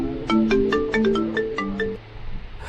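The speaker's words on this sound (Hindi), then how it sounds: "तभी सुमन को किसी का फोन आता है" A cartoon phone ringtone plays a bright, melodic electronic tune of quick plinking notes for about two seconds, clear and upfront, before fading into quiet.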